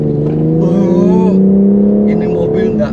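A 2020 BMW X4 M Competition with 600 Nm of torque and an 8-speed gearbox pulls hard under acceleration, its engine note rising steadily and loud from inside the cabin while someone talks over it.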